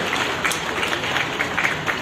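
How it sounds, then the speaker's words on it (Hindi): Audience applause at a university convocation ceremony forms a soft, continuous patter of many hands, moderately distant and steady, with no clear voices above it. "तालियां बजते हैं, बहुत अच्छा लगेगा"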